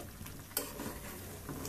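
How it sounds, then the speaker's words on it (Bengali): Homemade ghee is stirred slowly in a pan over medium heat, giving soft, faint scraping with a low sizzle underneath and one small metallic clink. "এভাবে মিডিয়াম আঁচে রাখতে হবে আর ধীরে ধীরে এভাবে নাড়া দিতে হবে, নাহলে নিচ থেকে লেগে যাবে"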